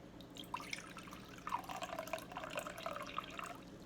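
Water poured into a measuring cup during a kitchen cooking demonstration, a light trickling and dripping stream with small splashes, moderately close and fairly quiet, with no talking.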